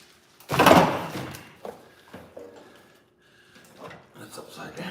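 A heavy metal drawer from a Harbor Freight work cart is pulled and handled, giving a loud scraping clatter at the start, then lighter clunks and rattles as people talk nearby.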